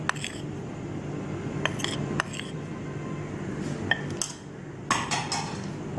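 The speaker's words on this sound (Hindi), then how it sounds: "और इनको अच्छी तरह मिक्स कर लीजिए।" Fish pieces mixed with garlic paste and flour in a bowl, giving scattered metallic clinks and light scrapes of utensil against dish, with quiet stretches between and no talking.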